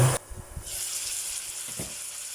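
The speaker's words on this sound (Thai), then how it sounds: "แล้วก็ปิดฝาไว้แป๊บนึง เพื่อให้ตับมันสุกก่อน" Pork liver sizzling in a frying pan under a lid, a short burst of loud hissing at the start, then a steady muffled sizzle with faint knocks.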